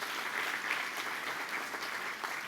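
An audience at a charity gala applauds in a steady, even wash of clapping at moderate distance, with no voices over it.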